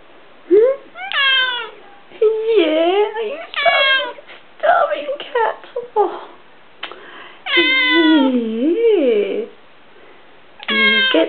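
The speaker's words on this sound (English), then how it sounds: "Oh, you starving cat." A cat meows repeatedly while begging for prawns, with long, drawn-out, wavering cries close to the listener and short pauses between calls.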